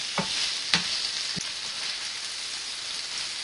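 Ground meat frying in a pan for bolognese sauce for lasagne, a steady close sizzle with a few sharp scrapes and taps as the meat is crumbled.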